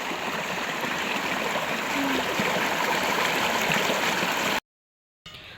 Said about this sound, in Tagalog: Dito na po ako dumayo pagbabanlaw sa sapa at malawak-lawak po.